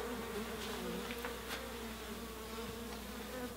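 A steady, dense buzzing of many honeybees inside a hive, close and continuous, with a few louder wingbeats passing nearby.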